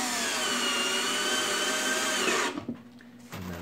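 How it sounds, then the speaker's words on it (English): A power drill drives screws into a wooden pallet for bee hives, giving a loud, close, steady whine for about two and a half seconds that stops abruptly, followed by a brief clatter and a short lower hum. "I put 5 screws in all the way down."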